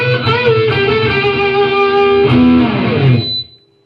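A lead guitar lick through a harmonizer effect, played in the 12th position with doubled, layered bending notes that run on steadily, loud and close, ending on a held note that cuts off sharply.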